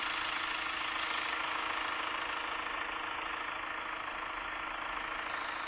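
A diesel SUV engine idles with a constant, even drone, close and loud, no speech over it.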